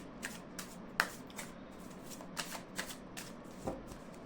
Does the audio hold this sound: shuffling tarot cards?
yes